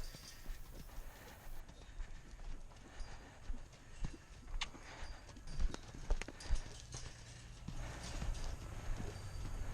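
A two-year-old red roan colt, untouched before, moves around a round pen, his hoofbeats making faint, irregular thuds over a low background rumble.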